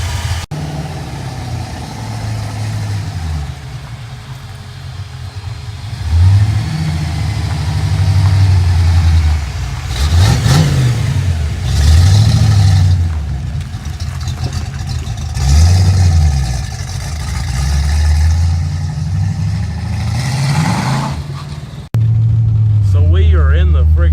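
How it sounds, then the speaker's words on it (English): A 1980 Ford Mustang with a swapped-in V8 rumbles steadily on a test drive, its engine note rising and falling in repeated revs and gear shifts while people talk inside the car over it. "I think it's about time for a test drive."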